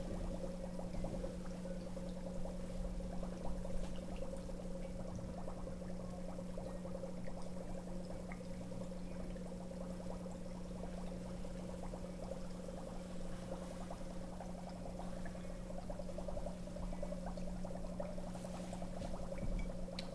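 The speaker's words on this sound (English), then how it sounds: "we're still getting some bubbling going on here, so we know that we're still making the carbonic acid" Dry ice bubbles in a sodium hydroxide solution, giving a steady, soft fizzing and gurgling that continues evenly throughout over a constant low hum.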